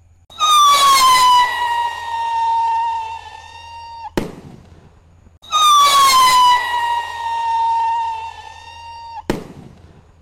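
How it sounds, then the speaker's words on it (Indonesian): Roman candle pyro rockets set off at night: two launches, each a loud piercing whistle that slides downward for a few seconds and ends in a sharp cracking burst, with a quiet gap between them. "Roket piro Roman candle"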